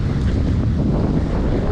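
Wind blows steadily across a sailing boat at Maupiti in French Polynesia, a brief, loud, rushing roar of buffeting air with no talking.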